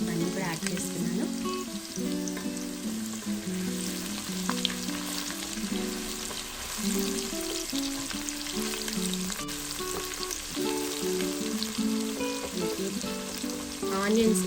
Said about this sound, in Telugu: ఆనియన్స్ బ్రౌన్ కలర్లో వచ్చేంత వరకు ఫ్రై చేసుకోవాలి, డీప్ ఫ్రై చేసుకోవాలి.